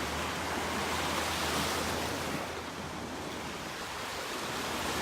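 Ocean waves crash steadily onto the beach at Longboat Key, a loud, continuous roar of surf with some wind buffeting the microphone.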